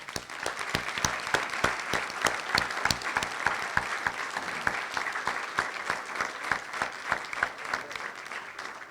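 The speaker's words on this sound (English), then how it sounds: "Let's give those guys and ladies a round of applause." Audience applause at a Missouri State USBC bowling awards ceremony: steady, moderately quiet clapping from a modest-sized room, individual claps distinct, without speech.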